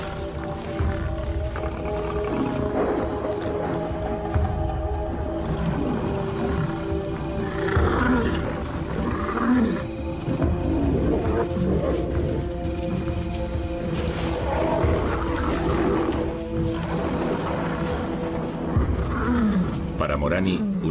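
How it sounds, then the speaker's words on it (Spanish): Male lions roar in the Ngorongoro Crater, driving off rival males; the deep roars rise and fall repeatedly over about twenty seconds beneath steady narration. "Su furia y sus rugidos ahuyentan a 2 de los machos."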